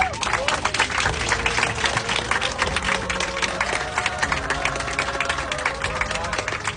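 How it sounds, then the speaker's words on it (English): Passengers clapping aboard an airliner cabin for a retiring crew member, a dense steady patter of applause over the constant drone of the aircraft engines. "please make some applause for him"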